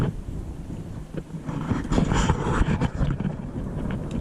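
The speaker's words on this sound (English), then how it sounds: "a bolt of lightning hit and it was deafening" Thunder rumbles during a spring storm, a loud rolling crash building and fading over wind and rain noise, with no talking.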